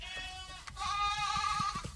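Goats bleat in a wide mountain meadow valley, several wavering, nasal calls overlapping close by and carrying on for the whole stretch over a steady outdoor background.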